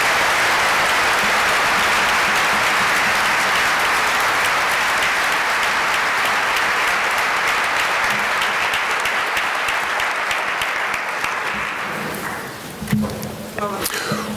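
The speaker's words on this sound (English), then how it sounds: "How about a round of applause for the student growth" Sustained applause from a school honors ceremony audience for student growth award winners, a dense, loud wall of clapping that holds steady before thinning out and fading near the end.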